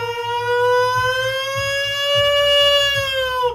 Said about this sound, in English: all of a sudden you hear the tornado air raid sirens go off